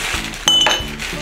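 Ice cubes drop into a highball glass with one sharp, bright clink and a short rattle at mid-clip, close and clear against a quiet room.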